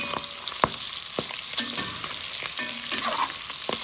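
Onions fry in a pan for a boucané with petits pois, giving a steady close sizzle broken by occasional sharp clicks and scrapes of stirring, with no voices.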